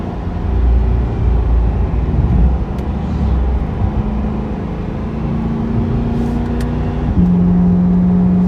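A car engine drones as the driver lifts off the gas on a twisty road, a loud steady hum that settles into a lower, even tone near the end.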